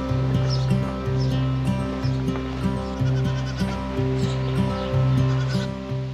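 Dairy goats bleating in quick repeated calls, loud and close, with several overlapping cries in a steady rhythm.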